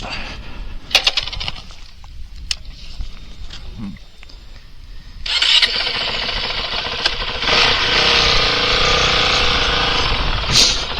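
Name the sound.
Honda CRF450RL dirt bike engine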